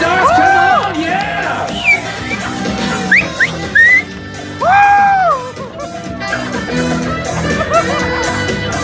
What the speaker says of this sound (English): The crowd begins to cheer as you play your instrument.